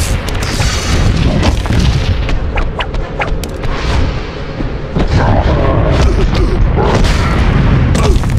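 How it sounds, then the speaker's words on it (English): Repeated deep booms of grenade explosions in the Hulk 2003 video game, loud and overlapping with crashing debris throughout. "Can you dodge grenades?"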